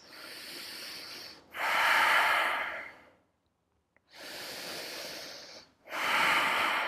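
Slow deep breaths during a yoga session for knee injury management: four long, close, breathy inhales and exhales in a steady rhythm, with a short quiet pause near the middle.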